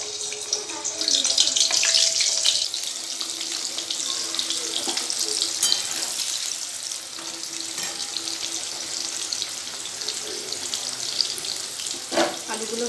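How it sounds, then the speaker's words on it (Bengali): Potatoes frying in hot oil in a kadai, a steady loud sizzle and crackle running throughout with small bursts as pieces are added, no talk. "কড়াইতে তেল দিয়ে দিয়েছি, উচ্ছে আলু ভেজে তুলে নিয়েছি। এবার আলুগুলো ছেড়ে দেবো এক এক করে।"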